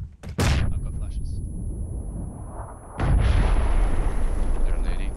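Grenade explosions in PUBG gameplay: a sharp blast near the start and another heavy boom about three seconds later, each trailing into a rumbling roar, with players talking.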